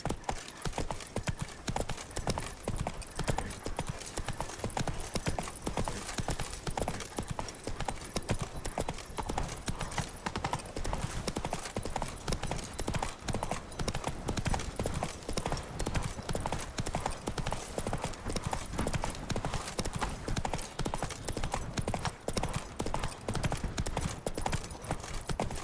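Hooves of Roach, a horse in the Witcher 3 video game, galloping as a continuous fast clip-clop rhythm that runs steady and prominent for the whole stretch, with faint game sounds beneath.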